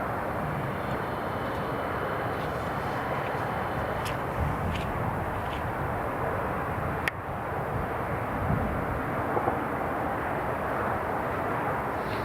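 An Italian Air Force C-27J aircraft roars through its takeoff, a loud, continuous broadband engine and propeller rumble that holds steady throughout, heard from outdoors with wind noise.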